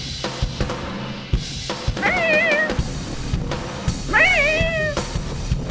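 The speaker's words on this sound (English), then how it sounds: "There's my cat." A cat meows twice at close range, with a drawn-out meow and then a second one, over a faint background of clicks and bumps.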